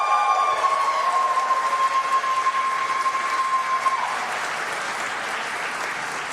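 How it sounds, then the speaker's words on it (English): Sustained audience applause at the Golden Joystick Awards 2025 ceremony, a dense wash of clapping from a large crowd that stays loud throughout, with a steady tone running under it for the first part before the clapping carries on alone. "can we have some applause for her, please"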